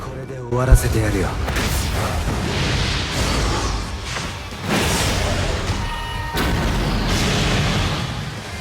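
A soul bomb attack in the Bleach Brave Souls mobile game bursts with a sharp impact and repeated whooshing, booming energy blasts, partly under someone talking.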